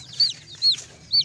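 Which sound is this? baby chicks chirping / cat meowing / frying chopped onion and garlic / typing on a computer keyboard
baby chicks chirping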